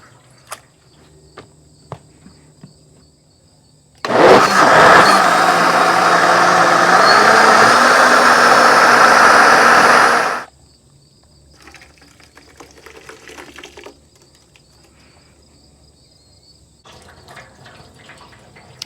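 A kitchen blender purees thawed, strained tomatoes for homemade ketchup, running as one loud, steady whirring burst of about six seconds that starts and stops abruptly between quieter stretches of faint handling noise.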